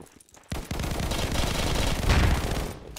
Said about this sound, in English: No, shooting from my back, bro.